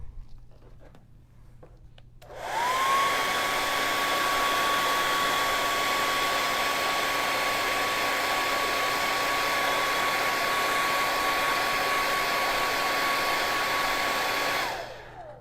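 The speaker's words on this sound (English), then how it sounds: "let's blow dry this so that we can write" A hair dryer blow drying paint on a small mini canvas switches on after about two seconds and roars steadily at close range with a constant whine for twelve seconds, then cuts off, with no talk.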